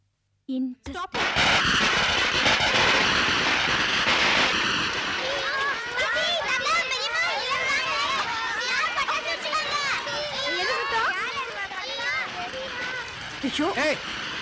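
Firecrackers going off in a dense, sustained crackle after a sudden start, loud and continuous, with children's and other voices calling over the bursts.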